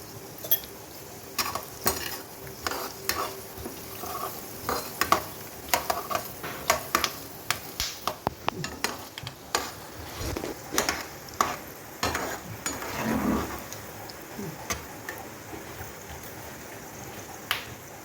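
Spices and urad dal crackle and pop in hot oil in quick irregular bursts while tempering for tamarind rice, mixed with the clatter of a spoon scraping against a metal pan.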